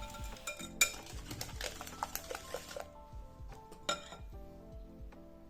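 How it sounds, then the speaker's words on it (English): A whisk clinks and scrapes rapidly against a bowl, stirring a pudding mixture with salt and cinnamon in quick, uneven strokes, close and moderately loud. "just whisk all of that together"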